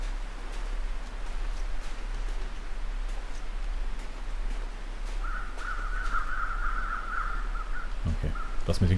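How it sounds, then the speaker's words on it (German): Crows caw in the wintry wilderness of the survival video game The Long Dark, with a few faint, scattered calls over a steady hiss of wind and a low hum, followed by a couple of closer clunks at the end. "Das mit den Krähen hört sich manchmal irgendwie sehr seltsam an, als ob hier irgendwo anders nochmal Krähen fliegen würden"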